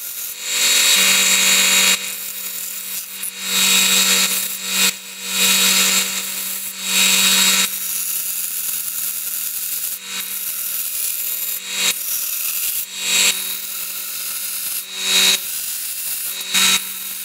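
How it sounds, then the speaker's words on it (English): A belt sander grinds a piece of steel down to marked lines, a loud continuous whine that swells and drops in bursts as the metal is pressed against the belt and lifted away. "bring it over to the belt sander and sand down to the lines that I marked"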